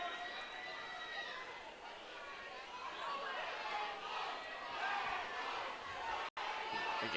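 Crowd noise at an amateur boxing match, a heavy mix of chatter and shouted cheers for the fighter Langlois, steady and fairly distant in a large hall.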